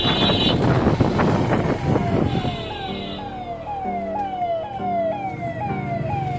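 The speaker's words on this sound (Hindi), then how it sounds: "पुलिस की गाड़ी आ रही है।" A police siren wails in rising, repeating sweeps, loud and close, after a stretch of busy traffic noise.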